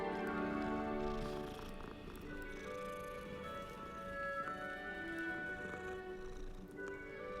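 A kitten purring in Hogwarts Legacy, a steady low rumbling purr running throughout, close and soft, layered with tonal game background music.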